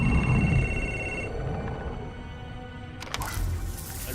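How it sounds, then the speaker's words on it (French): Telephone in the video game Beyond Two Souls rings with a steady electronic trill over low background ambience, stopping partway before a brief click and rumble follow. "Le téléphone?"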